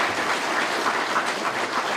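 An audience at a police and firefighter awards ceremony applauds, a steady, even wash of clapping with no breaks.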